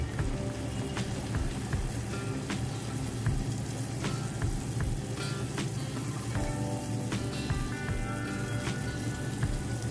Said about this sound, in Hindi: चाशनी को हाई फ्लेम पे हम इसको उबाल लिए हैं